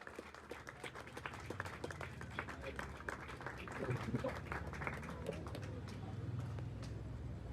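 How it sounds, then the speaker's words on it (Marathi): Crowd applause at a Govinda pathak practice session in Jogeshwari as a new practice jersey is unveiled, scattered sharp claps over background chatter and voices, fairly distant and moderate in level. "जोरदार टाळ्या झाल्या पाहिजे"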